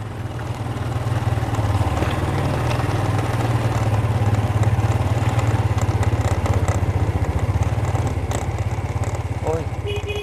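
A motorbike engine drones continuously while riding, a steady loud mid-pitched hum with rattling clatter and wind, persisting unchanged throughout.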